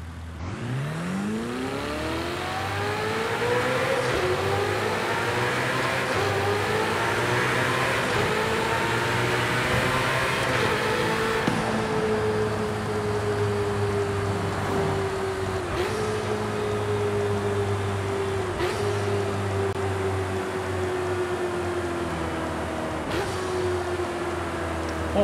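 Ferrari 488 Challenge race car engine in Forza Horizon 5, heard inside a tunnel: a steady, loud engine drone that climbs as revs build, then holds a sustained high-pitched whine with reverberant echo throughout.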